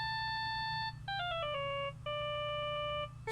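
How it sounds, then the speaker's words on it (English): A cell phone ringtone in Phoenix Wright: Ace Attorney – Justice for All, a bright electronic melody of sustained beeping tones that step down in pitch and then repeat, loud and alone. "All of a sudden, the phone began to ring."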